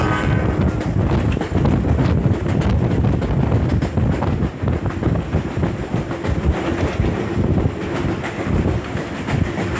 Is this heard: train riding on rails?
yes